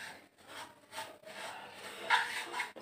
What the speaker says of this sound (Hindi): इसमें हम नारियल का बुरादा डाल देते हैं। इसको अच्छे से भूनते ही रहना है